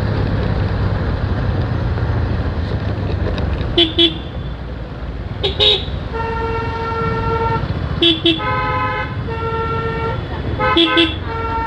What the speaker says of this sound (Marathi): या बारक्याच्या हॉर्नचा गेलाय जीव, तरी पण पो पो पॅ पॅ पॅ चालूच आहे.